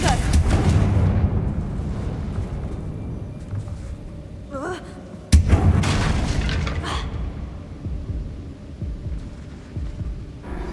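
Confringo fire spells from Hogwarts Legacy burst as deep booming blasts, a heavy rumble at the start and a sharp second explosion midway, each trailing off into a rolling low roar.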